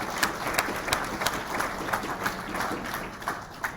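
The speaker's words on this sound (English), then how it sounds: "I didn't say it for the claps, but thank you." An audience claps together at a fan convention panel, a dense, steady round of applause with many individual hand claps, fairly close and continuing for a few seconds with no voices over it.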